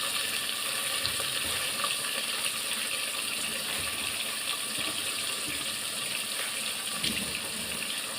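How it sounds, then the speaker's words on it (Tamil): Chopped onions sautéing in a pan while cooking a one-pot coconut milk rice lunch, a steady, faint hiss and sizzle that runs on evenly with no talking. "வெங்காயத்தை போட்டு வதக்கிக்கிறேன்"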